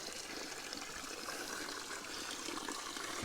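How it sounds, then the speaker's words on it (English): Fresh spring water runs from a pipe set into a mountainside, a steady, faint trickle with no other sounds. "That is fresh spring water coming out of there."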